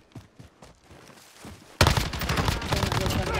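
Warzone video game gunfire: after a quieter stretch of voices and scattered thuds, a sudden loud burst of rapid automatic shots erupts and continues as a dense fusillade, with players talking.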